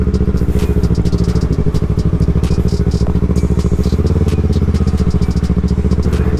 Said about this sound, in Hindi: यहाँ से हम बाइक को घुमा लेते हैं।